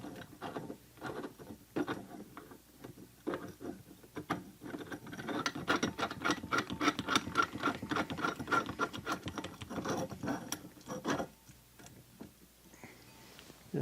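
Metal fixture ring being screwed back onto a light fixture, a steady run of faint scraping ticks and rubbing clicks, close up and alone, easing off near the end.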